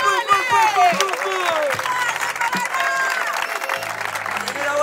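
A crowd at a freestyle rap battle claps and cheers with loud shouting voices mixed in, energetic and continuous throughout.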